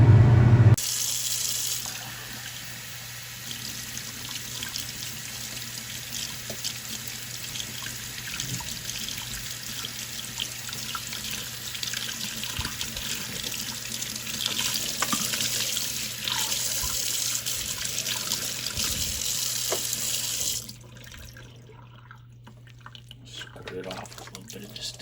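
Tap water runs steadily into a sink while a silver bar is rinsed clean of sulfuric acid, a continuous close splashing stream that stops abruptly near the end and leaves quieter background.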